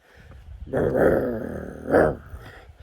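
Dogs growl and snarl while fighting in two rising bursts, close and rough, with low rumbling between them and no talking, on a Himalayan mountain trek.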